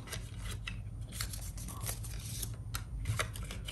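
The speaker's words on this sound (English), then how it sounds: "Find that fold and fold them there." Paper flowers being folded and creased for a pop-up bouquet card, a steady close rustling and scraping of paper with repeated short crinkles throughout, no speech.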